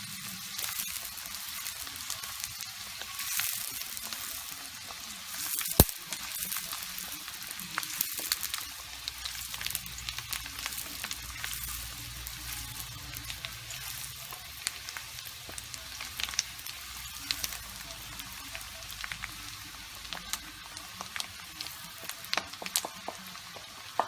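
Rice sizzles and fries steadily in a hot pan, a faint, continuous crackling hiss with scattered pops and a few sharp clicks of stirring.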